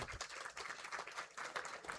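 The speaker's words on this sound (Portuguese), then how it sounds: "peço até uma salva de palmas para o Carlos" Quiet applause for Carlos at a tribute ceremony honoring MBA PPP professionals, a soft, continuous patter of many hands clapping that rises and falls in small surges throughout.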